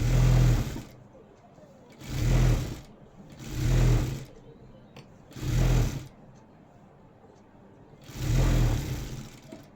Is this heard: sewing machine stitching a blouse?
yes